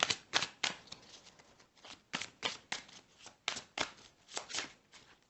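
Cards are shuffled repeatedly in quick riffling bursts, close and crisp, with short pauses between rounds and no talking.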